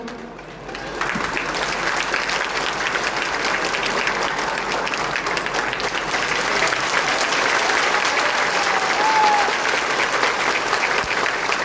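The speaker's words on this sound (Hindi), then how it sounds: "ये तालियां पूरे बिहार तक की आवाज जाएगी।" Steady, sustained audience applause fills a hall at a Bihar Madrasa Education Board event, a dense wash of clapping that swells slightly toward the end without pause.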